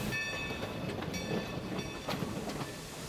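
A 1924 Baldwin steam locomotive, engine 45, on the California Western Railroad rumbles steadily with a broad, continuous roar and faint clattering, heard close by with no voices.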